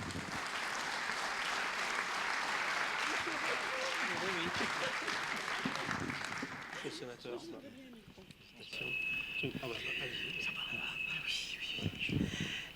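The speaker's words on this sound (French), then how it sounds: "Voilà, on peut l'applaudir." An audience at an accessibility awards ceremony applauds a senator, with dense clapping for several seconds that thins out, then a voice speaks and a tone rings toward the end.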